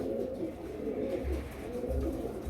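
Pigeons, including silver, baga and hammer hens, coo in a steady low murmur throughout, a mix of overlapping close and slightly distant calls.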